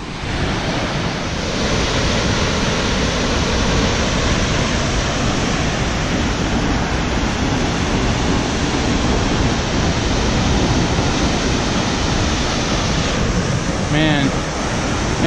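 Vernal Falls waterfall on the Mist Trail in Yosemite, a constant heavy broadband roar of falling water and spray, close and loud, steady throughout with no break.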